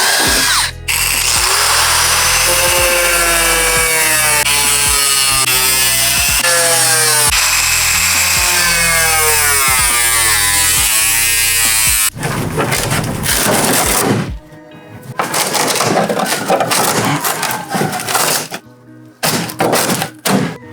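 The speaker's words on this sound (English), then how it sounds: "Definitely just drills through like butter." Power drill boring holes through the body of a Mustang car, a loud close whining bite that rises and falls over a long stretch, then broken bursts and thumps, alone.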